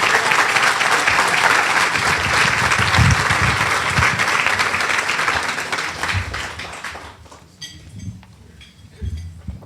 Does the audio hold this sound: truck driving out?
no